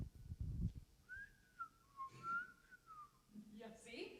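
A person whistles a short, faint wavering melody of a few gliding notes, with soft rustling before it and a brief voice after.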